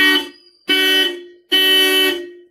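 A Mahindra Bolero B6 car horn honks three times up close: one short blast followed by two longer, loud ones, with brief gaps between.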